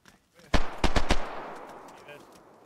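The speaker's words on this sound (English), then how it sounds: "Who's shooting?" Rapid bursts of automatic gunfire in DayZ on Xbox One X, a few close sharp shots in quick succession followed by a decaying echo, with brief game sounds trailing after.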